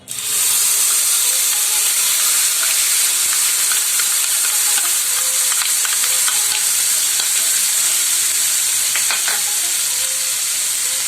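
Half a cup of onion paste frying in hot oil left from frying eggplant for a Bengali begun bahar, a loud, close, continuous hissing sizzle with scattered crackles and a few scraping clicks, no voices.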